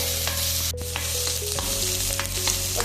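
Onions and green chilies sizzle and fry steadily in a pan for a mixed vegetable stir fry, with occasional scrapes and stirring clinks over the continuous close frying hiss, no voices.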